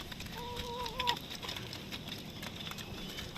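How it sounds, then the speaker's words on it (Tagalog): Pet chickens cluck while being fed, with one clear warbling call in the first second. The rest is a busy, steady farmyard background. "Pakain tayo ngayon sa alaga natin ng mga manok, mga tropa."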